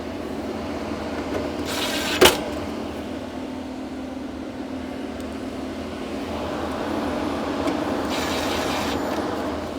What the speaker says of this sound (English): Let's get the cabinet screwed down so we got a good ground.